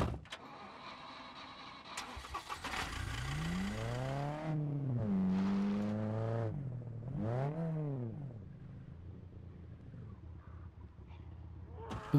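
A car engine in the video game SCUM revs up and down in sweeping rising and falling surges, with a whirring start and quieter engine hum afterward.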